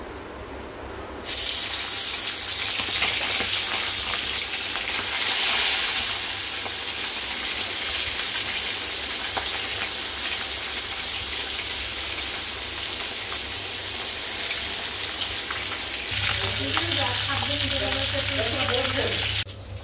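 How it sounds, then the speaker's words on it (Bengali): Fish frying in hot oil in a wok gives a loud, continuous hissing sizzle close up for nearly twenty seconds, with faint bubbling and stirring near the end and no speech. "মাছ ভাজা কমপ্লিট হয়ে গেছে।"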